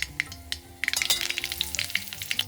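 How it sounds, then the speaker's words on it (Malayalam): Mustard seeds popping and crackling in hot oil in a pan, a sharp sizzle with scattered crisp pops that thicken into a busy burst of spattering after a quieter start. "പാനിൽ എണ്ണ ചൂടായി അതിലേക്ക് ഞാൻ 1/2 ടീസ്പൂൺ കടുകാണ് ഇടുന്നത്"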